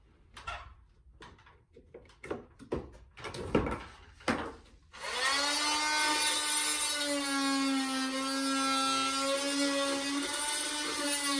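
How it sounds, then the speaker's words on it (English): Oscillating multi-tool with a dull blade cutting into an old house, a steady high buzzing whine with strong harmonics that runs continuously for several seconds after a few sharp knocks and handling clatters. "only a little way to go with the oscillating tool"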